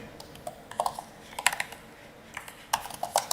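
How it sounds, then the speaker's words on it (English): Slow, irregular typing on a computer keyboard during a live tarot and astrology stream, with scattered bursts of clicky keystrokes and short pauses between them, close and fairly quiet, with no talking. "I'm the world's slowest typer."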